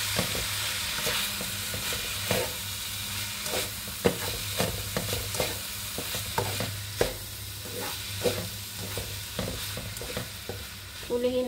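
Brown fried rice made with carrots and green peas sizzles in a pan, with a spatula scraping and tossing it in a regular rhythm over a continuous frying hiss, close by and with no talking.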